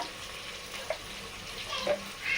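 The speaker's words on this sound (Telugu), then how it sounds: "టమాటా మగ్గాలి కదా, పచ్చి వాసన అంతా పోయేదాకా మంచిగా వేయించుకోవాలి టమాటాని అన్నీ" Tomatoes frying in a pan with salt, chili powder and turmeric make a faint, low hiss, with a few soft stirring scrapes rising near the end.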